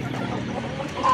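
Free-range village chickens in a coop cluck softly and steadily at close range, a low continuous murmur of hens with a slightly louder call near the end.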